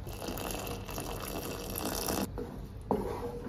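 Sugar syrup being poured into barnyard millet payasam, a steady close liquid gush and trickle that continues throughout before briefly breaking off near the end.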